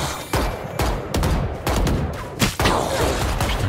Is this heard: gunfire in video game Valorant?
yes